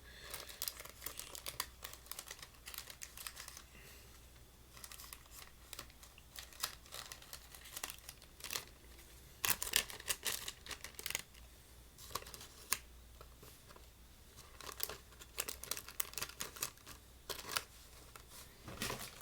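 Paper crinkling as a signed deck of playing cards is wrapped back in paper: continuous close, dry rustles and crackles with sharper bursts, busy and irregular throughout, no talking.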